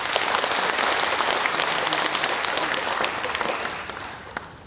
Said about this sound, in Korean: 자문위원님들께 큰 박수 한번 주십시오